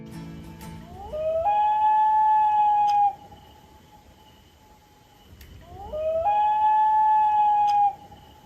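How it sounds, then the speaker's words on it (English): Two long, loud steam train whistle blasts, each rising into a steady harmonic tone for about two seconds, separated by a few seconds of quiet. "there's no sound in the world quite like a steam whistle"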